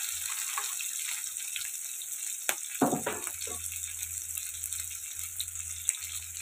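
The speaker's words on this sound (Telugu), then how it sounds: "ఇవి కలుపుకుంటూ ఫ్రై చేసుకోవాలండి." Onions and green chillies fry in a pan with garlic, a soft steady sizzle running throughout, with a few clinks and stirring scrapes midway.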